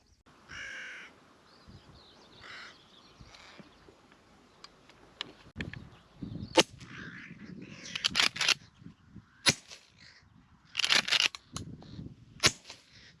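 Hushpower-silenced .410 shotgun fired at decoyed crows over second-cut grass, using Ely subsonic 18-gram fibre shells: several sharp, muffled pops spaced a few seconds apart, mixed with crow caws.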